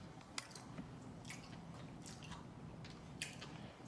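Wet, close-up smacking and chewing from eating chicken wings and rice, several squishy bites over a steady low background hiss, with no talking.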